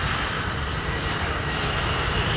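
A Boeing 777 jetliner at London Heathrow Airport, its engines giving a loud, continuous roar that stays steady throughout with no voices.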